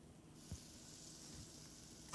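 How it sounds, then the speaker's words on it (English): A strand of potato sizzles faintly and steadily in hot oil, a soft hiss with a small pop near the start. "That's a nice little sizzle."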